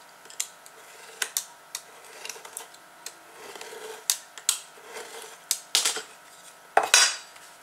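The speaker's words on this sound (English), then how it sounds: "I'm going to cut this in half diagonally to make two right angle triangles" Sharp clicks and snips of scissors or a cutter slicing a 3mm Corex plastic strip diagonally, a dozen or so crisp, close cuts spread irregularly over quiet background, with no talking.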